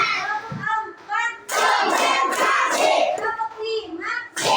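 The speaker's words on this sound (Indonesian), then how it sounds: "Tepuk satu, tepuk dua, tepuk tiga, tepuk empat," Schoolchildren in a classroom clap their hands in bursts while chanting a counting rhythm, near and bright, with sharp clustered claps between the sung number calls.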